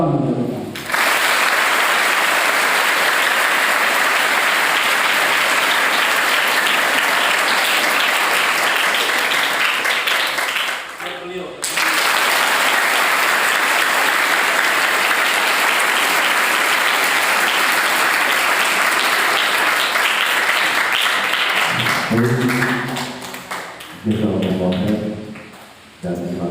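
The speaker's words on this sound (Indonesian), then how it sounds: "Tepuk tangan untuk kita." A seminar audience at an Islamic boarding school in Lampung breaks into long, loud, sustained applause that stops briefly and then resumes, before a voice speaks near the end.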